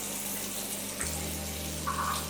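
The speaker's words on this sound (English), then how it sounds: "So we have your basins first with running water." Water runs from the taps of a row of wash basins in a school toilet block, a soft steady faint splashing hiss that continues throughout without speech.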